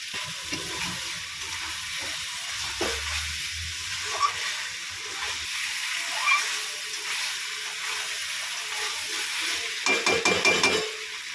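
Minced chicken and fried potatoes stir-fry together in a pan, a continuous hissing sizzle with soft scraping stirs underneath and a burst of sharper spatula scrapes near the end, with no one speaking.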